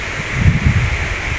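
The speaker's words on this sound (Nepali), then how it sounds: "सोही हावा चलिरहेको" Wind blows steadily beside a river near a lakeside area, a continuous rushing and rustle with gusty buffeting on the microphone and no voices.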